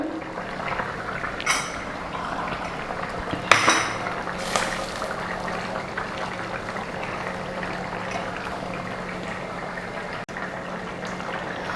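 Fish and raw mango curry with coconut simmering in a pot, a steady bubbling hiss with a few clinks and scrapes of a spoon stirring through it, close and moderately loud.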